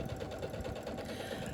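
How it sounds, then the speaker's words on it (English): A sewing machine runs a zigzag stitch, joining scrap pieces of quilt batting flush together, with a quick, even mechanical whir-and-tap rhythm that is close and continuous for the whole short stretch. "I sewed the pieces flush together using a zigzag stitch."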